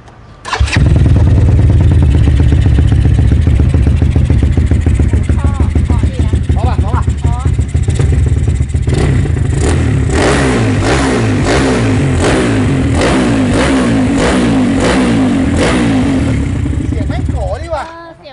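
A Suzuki GD motorcycle with a carburetor engine idles close by, then revs repeatedly in rising bursts, loud and steady throughout, with people talking faintly underneath.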